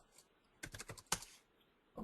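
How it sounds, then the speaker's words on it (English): Quick bursts of typing on a computer keyboard, a rapid cluster of key clicks followed by a single sharp tap and a few more keystrokes near the end, close and clear with no talking. "Probably hear me typing."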